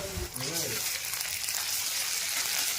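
Ginger-garlic paste fries in mustard oil with a soft, steady sizzling hiss that follows a brief spoken voice at the start.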